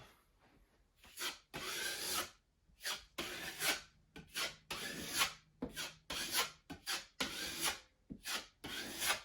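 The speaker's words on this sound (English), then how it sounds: "you're going to take some more of your compound and you're going to give it a second coat" Drywall compound is spread for a second coat over a small patched hole, heard as repeated scraping, rasping knife strokes in uneven bursts with short pauses between them, close and fairly quiet.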